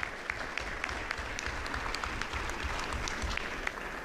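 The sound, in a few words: audience applause at debate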